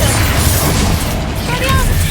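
Explosive Confringo and Bombarda blasting spells go off in the Hogwarts Legacy video game: a dense, continuous wash of booming blasts and crashing debris that stays loud for the whole span.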